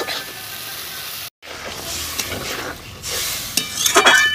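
Water poured into frying oil and spices, a steady sizzle briefly broken by silence, then a rising burst of hissing and spattering near the end with stirring clatter.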